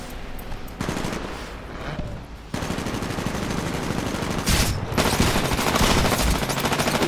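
Rapid bursts of shotgun fire from the game Titanfall boom repeatedly at close range, loud and dense, with brief gaps between volleys.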